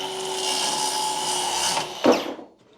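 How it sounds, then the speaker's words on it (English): A power tool cuts through an RV countertop, its steady high whine and grinding loud and close for about two seconds before slowing with a final rough scrape and spinning down. "Gotta love the power tools."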